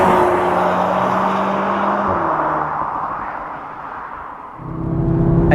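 A 2022 Audi S3 compact sports sedan's exhaust rumbles steadily while driving, a loud continuous engine drone that dips briefly and then swells again as it accelerates.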